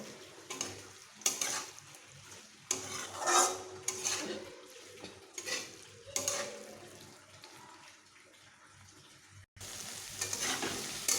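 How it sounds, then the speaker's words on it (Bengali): Chhana (cottage cheese) being stir-fried with spices in a pan for a yardlong bean dish, with irregular bursts of scraping and sizzling that fade out and return near the end. "মশলার সঙ্গে ছানার সঙ্গে সবগুলোকে বেশ ভালোভাবে এইভাবে কষিয়ে নেব"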